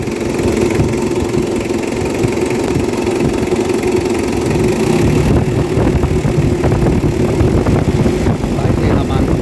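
A Mitsubishi Adventure engine idles at low RPM, a steady close rumble that runs continuously through the whole stretch, with someone talking over it.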